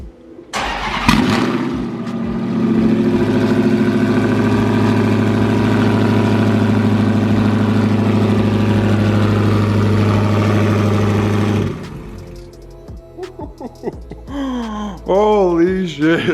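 A Dodge Charger engine is started with a sharp burst and then roars loudly and steadily at close range for about ten seconds before dropping away, leaving rustling and an excited voice afterward.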